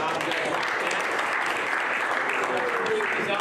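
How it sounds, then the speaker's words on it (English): Round of applause from a workshop group, dense continuous clapping that holds steady and fairly loud for the whole few seconds. "So another round of applause."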